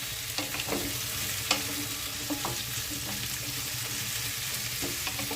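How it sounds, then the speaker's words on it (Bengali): Mixed vegetables (papaya, green banana, ridge gourd, brinjal and potato) frying together in a kadai over a low flame, a steady soft sizzle broken by occasional spatula scrapes and taps, fairly close, with no talking. "সব সবজি একসাথে ভালোভাবে কড়াইয়ের লো ফ্লেমে ভেজে নিচ্ছি"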